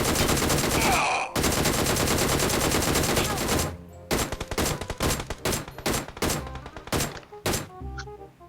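Rapid automatic gunfire in a PUBG Mobile match, a long sustained burst followed by a string of separate sharp shots and short volleys, loud and close.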